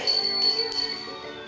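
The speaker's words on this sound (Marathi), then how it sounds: "कोण आहे रे? कोण वाजवतंय घंटी?" A small bell rings in three quick, bright rings, each ringing out briefly before fading.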